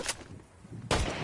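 Sniper rifle shots from the game Fortnite, two sharp cracks close together, each with a short echoing tail, heard without talk.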